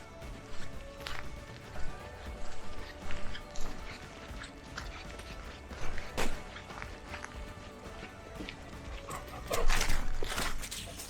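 Quick scrabbling paws and footsteps of a Doberman dashing about with the zoomies, bursts of movement coming and going with a few scattered thumps, fairly close.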